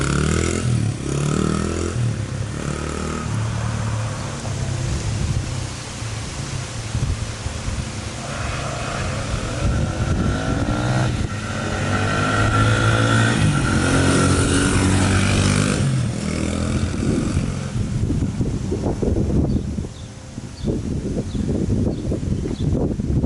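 A 2007 Honda CRF100 dirt bike with a five-speed transmission making a third gear pass, its engine buzzing and revving up and down through the run, fairly close and loud.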